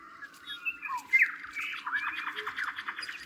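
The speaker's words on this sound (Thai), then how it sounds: "มีเสียงนกเสียงสัตว์ป่าเหาะ" Birds squawk and chirp at dawn in a dim, cool rural wetland area, a harsh close call followed by a trilling, chattering run over a quiet background.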